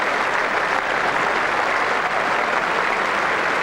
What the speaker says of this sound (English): There's warm applause for Peter Such, although he's got a duck.